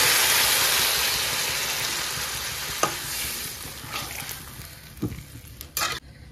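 Cold water poured into a sizzling spice masala for an egg and soybean curry, giving a steady broad frying hiss that slowly settles, with a few sharp clinks and stirring knocks of a utensil in the pan near the end.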